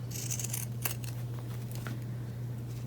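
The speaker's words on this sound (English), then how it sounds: "I'm going to use my pinking shears." Pinking shears snip through fabric in a few quick crisp cuts, close and clear over a steady low electrical hum, with no talking.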